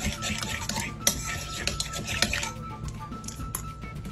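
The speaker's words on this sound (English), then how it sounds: "We're just going to mix this all up." A utensil stirs and scrapes around a bowl, mixing onion powder, yellow mustard and other shrimp seasonings, with close, brisk clinks and swishes in irregular strokes.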